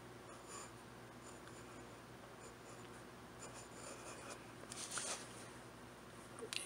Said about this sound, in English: I'm still writing with the same ink and I haven't dipped it back in again